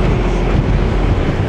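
A Yamaha NMAX Techmax 155 scooter engine runs loudly and steadily, its rough broadband drone mixed with heavy wind rush, with no pauses and no voices.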